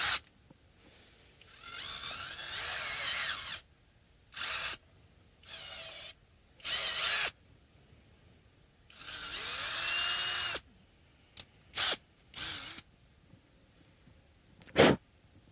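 A power drill bores a series of holes with progressively larger bits in a pickup modification, alternating bursts of high whining drilling with short pauses, several long runs and a few quick blips, heard up close with no talk.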